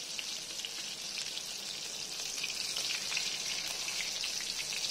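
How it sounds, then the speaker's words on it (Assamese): Fish pieces frying in a pan of oil, being cooked for a curry with ridge gourd and lemon, give off a steady, fine sizzle that swells slightly louder toward the end, with no talking. "মাছবোৰ ফ্ৰাই কৰা হৈ গ'ল।"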